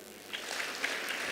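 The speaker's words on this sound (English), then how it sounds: "now let's give her another clap" A faint, brief patter of audience clapping for a speaker at a women's health and wellness event, soft and distant in a room.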